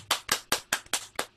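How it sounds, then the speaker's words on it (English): Six sharp, evenly spaced hand claps ring out close by, crisp and isolated, applauding a winner. "Clap for Art."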